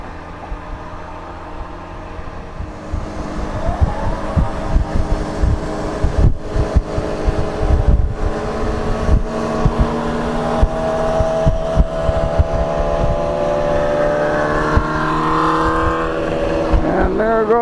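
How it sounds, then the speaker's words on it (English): Group of sport motorcycles passing on a Florida street on a Saturday night, engines building from a distance into loud revving pulses, then an engine's pitch sweeps upward as bikes accelerate away, with faint talk underneath. "There go the crotch rockets"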